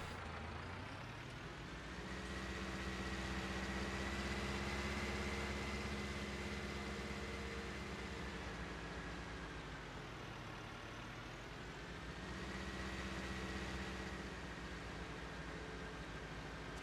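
Deep, steady rumble of a large tractor engine idling and revving slightly in a farming simulation game, a low drone that swells and eases twice while no one talks.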